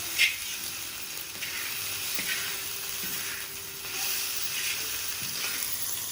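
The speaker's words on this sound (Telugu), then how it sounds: "ఇది ఎంత బాగా ఫ్రై అయితే అంత బాగా టేస్ట్ వస్తుంది." Burnt chicken pieces fry for fried rice, giving a steady close sizzle with faint scraping stirs and small clicks throughout, no voices.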